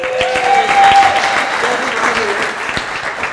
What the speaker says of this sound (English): I need you to clap.